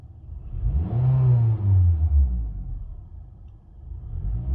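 A quiet ordinary car engine is revved up once, a deep rising and falling rumble close by, then settles back to idle before a smaller second swell.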